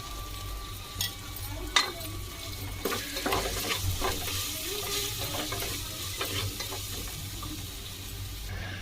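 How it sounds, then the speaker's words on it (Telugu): Ginger and garlic fry in a pan for palak dal, a steady low sizzle running throughout with scattered stirring scrapes and a sharp clink near the start. "అల్లం ఎల్లిగడ్డ కూడా మంచిగా వేగింది"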